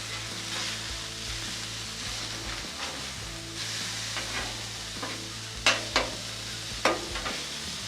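Chopped steak patties fry on a Blackstone flat-top griddle with a steady, close sizzle throughout, joined near the end by a few sharp scraping clicks of a spatula against the steel.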